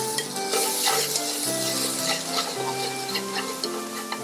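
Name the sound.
onions sizzling as they are added to hot oil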